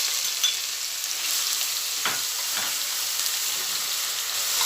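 Chopped onions and peppers hit hot oil and ghee in a pan with a steady bright sizzle, broken by a couple of soft stirring scrapes, up close with no speech.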